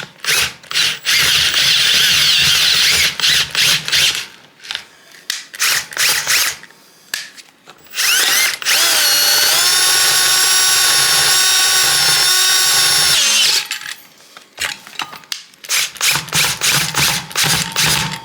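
A power drill bores holes in a custom fuel cell surge tank, loud bursts of whirring and grinding, with one long steady run of drilling in the middle and shorter stop-start bursts before and after.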